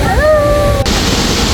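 River water rushing near the Pangsam waterfall on a hiking trail, a loud, continuous broadband roar that stays steady throughout, with a person's voice briefly heard over it at the start.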